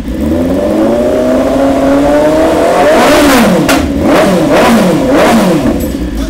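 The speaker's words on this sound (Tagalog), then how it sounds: "ready na ang tambutso nitong BMW S1000R. Soundcheck tayo!" A BMW S1000R motorcycle engine idles loudly, then revs up sharply several times in quick succession, the aftermarket exhaust roaring close by.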